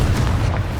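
A Confringo blasting spell explodes in the video game Hogwarts Legacy, a short, loud, deep boom with a rumbling low end that fills the brief moment.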